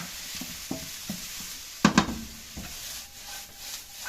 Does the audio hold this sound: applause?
no